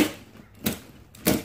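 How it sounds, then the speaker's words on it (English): Utility cutter slicing open a sneaker box for Yeezy Boost 350 shoes, three sharp, separate scraping cuts spaced about half a second apart, close and fairly quiet. "Let's cut this open."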